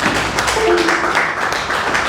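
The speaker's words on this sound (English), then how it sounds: "Ladies and gentlemen, give an applause to Honorable Fred Mukasa" Audience applause for Honorable Fred Mukasa at a formal evening gathering, a steady dense wash of clapping lasting a couple of seconds with some voices mixed in.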